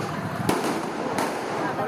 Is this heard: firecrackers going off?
yes